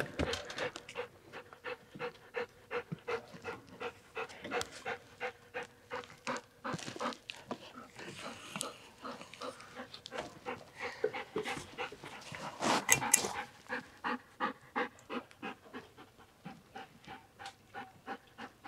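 A dog pants quickly and steadily close by, its breaths coming in even, rhythmic bursts that last throughout, with a brief louder flurry partway through and a faint whimper. No one speaks.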